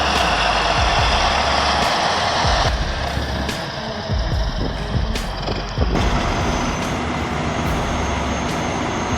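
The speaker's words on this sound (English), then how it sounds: "A steel bulldozer is rescuing a truck stuck in the snow." A steel bulldozer strains to pull a truck stuck in snow on a northern road, its heavy engine droning loud and close with shifting rumbles and a few clanking changes in load, no voices.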